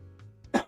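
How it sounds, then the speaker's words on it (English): A single short cough or throat-clear bursts out near the end, close and brief, after a moment of quiet low room tone, from a person playing Pokemon Y. "Oh no, I'm coughing."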